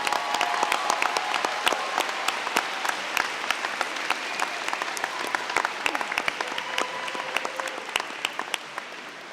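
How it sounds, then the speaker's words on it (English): A commencement audience applauds graduates of an engineering technology school at SUNY Canton, with steady clapping from a large crowd that holds a fairly even level for about nine seconds and then begins to fade near the end. "A round of applause for these graduates,"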